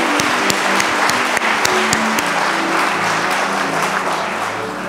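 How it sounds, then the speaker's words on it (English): Church congregation applauding during a worship service, loud sustained clapping from many hands with a few sharper individual claps standing out, a low hum running underneath. "Clap for Jesus."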